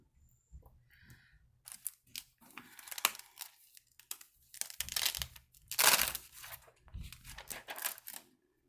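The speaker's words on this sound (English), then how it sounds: "And we'll take a little piece of paper and wipe off some of the ink." Paper rubbed and crinkled against a surface to wipe off ink, a series of close, rustling scrapes and crumpling bursts that grow louder midway, with no talking.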